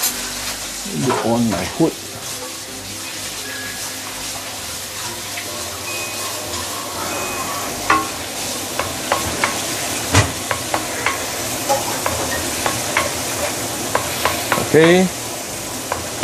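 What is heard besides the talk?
garlic sautéing and being stirred in a pan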